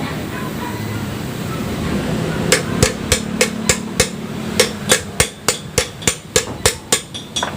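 Loud, sharp hammer blows on a stock Honda-style Rouser 180 motorcycle engine part during teardown, about sixteen metallic strikes in a steady, evenly spaced rhythm after a stretch of low background noise.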